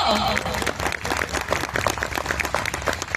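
A crowd at a poetry gathering during a festival in Bhagalpur claps loudly, a busy, uneven burst of hand claps with some cheering mixed in.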